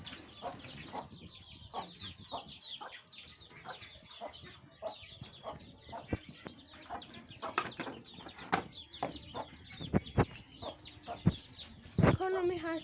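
Several chickens cluck steadily nearby as one hen is given food, a continuous stream of short clucks with louder squawks and calls near the end.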